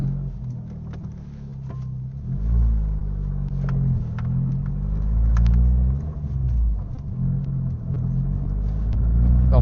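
A small car on a Fiat 500 chassis with 17-inch wheels rumbles from inside as it drives, its low engine drone swelling as the turbo comes in around 3000 rpm.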